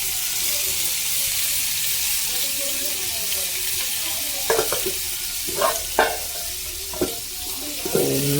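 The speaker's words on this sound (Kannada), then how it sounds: "ಈಗ ಫ್ರೈ ಮಾಡುದು ಇದು" Kokkare fish frying in hot oil in a village kitchen, a steady hiss of sizzling throughout with several sharp spatters and pops in the second half.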